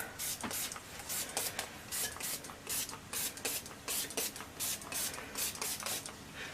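Repeated short hissing bursts of an alcohol spray bottle, about a dozen quick pumps in an uneven rhythm, close by with light handling noise.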